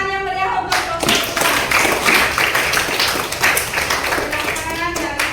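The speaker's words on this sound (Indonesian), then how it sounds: "Tepuk tangan yang meriah untuk kelompok 2." A class claps for a group that has just presented, with a short burst of brisk, close clapping from many hands in a school room. A voice speaks at the start and again at the end.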